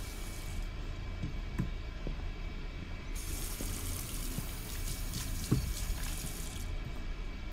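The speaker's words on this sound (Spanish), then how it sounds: "Le he vuelto a dar al grifo, no sé por qué." A sink tap runs steadily inside the horror game Fears to Fathom: Norwood Hitchhike, a continuous broadband water rush with brief clunks, with the flow brightening partway through and no talking.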